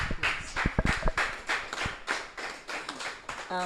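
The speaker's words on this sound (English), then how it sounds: "Can we give him a round of" Audience at a summit giving a round of applause for a farmer and agro developer, heard as irregular, close claps and taps in bursts rather than a smooth, sustained ovation.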